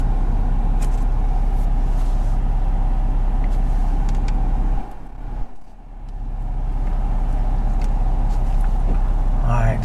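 Cars pass on a road beside a 2022 Toyota 4Runner TRD Off Road, making a continuous loud engine and tyre rumble that dips briefly midway and then swells back.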